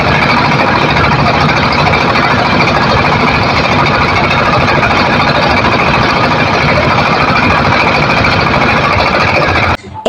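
A trawler boat's engine runs steadily and loudly up close, a dense unbroken rumble with a rattling mechanical texture that holds for the whole stretch before cutting off abruptly at the end.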